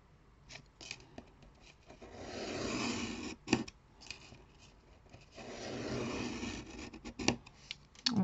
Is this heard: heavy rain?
no